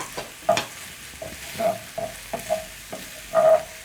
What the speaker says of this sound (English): Stir in and cook until fragrant.